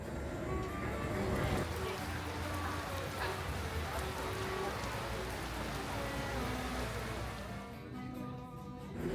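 Steady rain falls around Borçka Karagöl in Artvin, in Turkey's Black Sea region: a dense, even hiss with no breaks, and faint voices mixed in.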